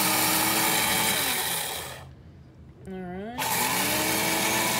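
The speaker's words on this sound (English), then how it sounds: "my grinder doesn't work when you hold down the lid. I gotta push this little button" An electric grinder grinding flax seed runs loudly with a steady whir, cuts out briefly for about a second, then restarts and keeps running, with a short spoken remark near the start.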